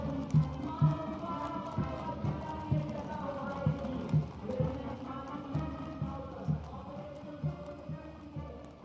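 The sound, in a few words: horses' hooves, cavalry contingent parading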